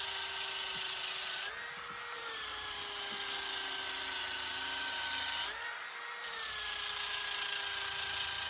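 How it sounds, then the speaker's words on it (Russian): A cordless drill/driver works on wood outdoors, its motor whine holding steady and dipping twice under load as it bites, running close and continuous with no talking. "Хоть и шуруповерт не предназначен для таких работ, но справился с ними на ура"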